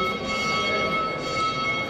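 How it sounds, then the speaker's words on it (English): A church bell rings inside the Church of the Holy Sepulchre in Jerusalem, its sustained tones sounding faint and distant within a reverberant, busy interior hum. "It's ringing the bell at the"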